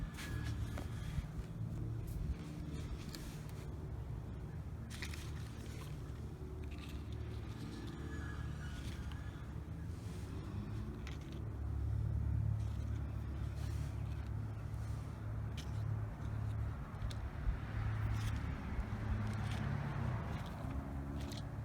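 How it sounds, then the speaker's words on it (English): City car traffic, a continuous low rumble of passing vehicles with swells as louder ones go by, heard from a distance under scattered ticks and faint outdoor noise. "Probably hear some car noises and my neighbor doing some construction,"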